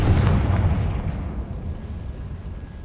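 A Confringo explosion spell goes off in the Hogwarts Legacy video game: one heavy, booming blast that hits at once and then fades into a long, rumbling decay.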